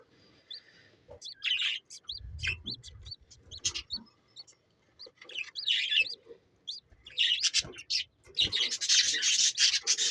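Newly hatched black-wing black-face chicks chirp in thin, high peeps, repeated in clusters close by, with rustling and scraping in between and busier calling toward the end.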